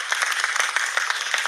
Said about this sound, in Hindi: ये लो तालियां आप सबके लिए